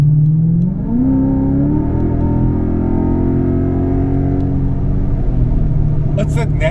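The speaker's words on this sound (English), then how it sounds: "It's that naturally aspirated kind of overtaking and the exhaust just wakes up" A Lexus IS F's naturally aspirated V8 revs up in manual mode during an overtake, a loud sustained engine roar climbing in pitch after a brief dip, heard from the cabin and holding steady as the exhaust opens up.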